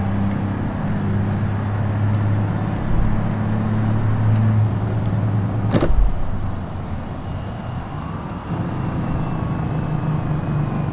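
A car drives close past the player's vehicle in BeamNG.drive, a steady engine and road rumble with a sharp swell near the middle as it goes by, over constant driving noise.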